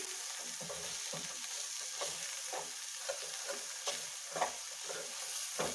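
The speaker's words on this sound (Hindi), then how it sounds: "अब इसको चलाते जाऊँगी जब तक ये अच्छे से मैश ना हो जाए" Spoon stirring a lauki (bottle gourd) and coconut barfi mixture with milk powder, cooked in a pressure cooker pan: soft, repeated scraping and scuffing strokes at close range over a steady hiss, with no voices.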